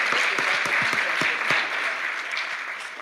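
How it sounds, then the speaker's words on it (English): Audience at a panel on food access in Arkansas breaks into applause, a loud, dense round of clapping that starts full and gradually thins out toward the end. "let's give him one more round of applause"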